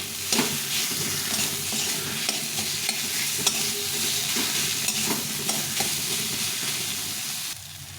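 A cauliflower filling seasoned with coriander and chili powder is stirred in a hot pan, with a dense, steady sizzle and repeated scraping strokes from close by, until the noise drops away at the end.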